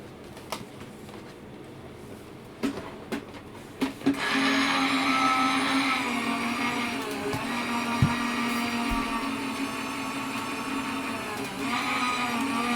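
A paper die-cutting machine runs a stamped card through with a steady mechanical whir and hum lasting several seconds, preceded by a few sharp clicks and taps close by.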